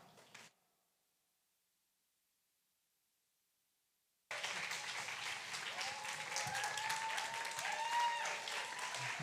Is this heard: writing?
no